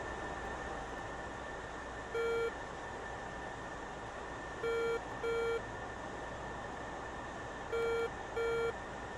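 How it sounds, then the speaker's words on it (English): F-14 radar warning receiver in DCS World giving short electronic beeps, single and paired, repeating irregularly over a steady cockpit hum. "That beep beep you're hearing is the RWR, the radar warning receiver, so it's every beep you hear is a new contact."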